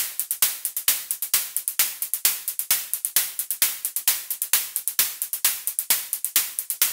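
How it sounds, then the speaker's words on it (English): Synthesized open and closed hi-hats from a Poison 202 synth tick in a fast, steady pattern of bright noisy hits, short closed ticks alternating with longer-decaying open ones, clean and alone. "I also made an open hi-hat and a closed hi-hat,"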